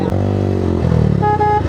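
A motorcycle without foot rests being ridden, its close engine droning with a strong tonal hum that shifts pitch as it revs over a couple of seconds.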